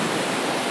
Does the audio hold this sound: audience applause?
no